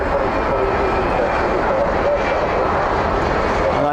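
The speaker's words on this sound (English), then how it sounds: "Oh, looks like that Qantas is beginning to move." At DFW airport at night, a Qantas airliner begins to taxi. A steady, distant jet engine roar and rumble fills the background while a person talks over it throughout.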